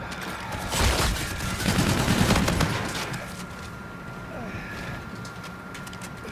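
Rapid bursts of NV4 Flatline gunfire in a shooter video game, a loud dense volley near the start that tapers off into quieter background game sounds.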